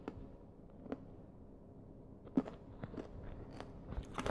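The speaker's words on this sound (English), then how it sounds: "I know when I'm crunching candy while I'm recording." Candy being crunched between the teeth close to a recording mic, irregular sharp cracks and bites growing busier toward the end, with no talk.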